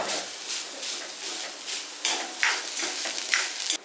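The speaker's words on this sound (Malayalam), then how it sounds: "അപ്പൊ നമുക്ക് ഇതെല്ലാം കൂടി ഇട്ടൊന്ന് അത്യാവശ്യം പച്ച മണം മാറുന്നത് വരെ ഒന്ന് ഇളക്കാം" A coconut and onion mixture for brinjal thoran fries in a pan while being stirred, producing a close, steady sizzle punctuated by several sharper scraping strokes of the spoon, with no voices.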